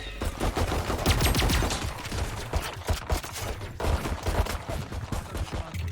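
Rapid gunfire from the Valorant shooter game cracks in dense, irregular bursts at close range, repeating throughout with little pause between volleys.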